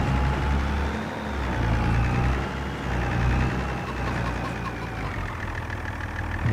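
A tractor idles in Farming Simulator 25 while working a vineyard at Monteriggioni. The engine drones steadily and fairly loud, with a low rumble and a faintly wavering whine, and nobody speaks over it.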